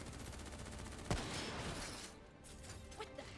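Gunfire in Call of Duty: Black Ops III, a continuous rattle of distant shots with one sharp, loud crack near the middle, fading into quieter scattered pops.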